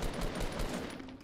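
Rapid gunfire from the battle royale video game Fortnite, a dense burst of shots running steadily through the brief moment, fairly loud with no talk over it.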